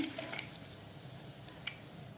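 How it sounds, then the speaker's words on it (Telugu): Roasted gram dal (putnala pappu) being fried and stirred in a pan for a Telugu amaranth stir-fry, giving a soft steady sizzle with faint scraping, alone and fairly quiet. "లాస్ట్లో ఈ పుట్నాల పప్పు వేసుకుని కొద్దిగా ఫ్రై చేసుకోవాలండి"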